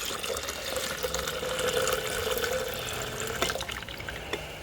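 Filtered gold solution poured into a bucket during gold recovery from IC chips, a steady close splashing stream of liquid running for several seconds with a few drips and clinks near the end.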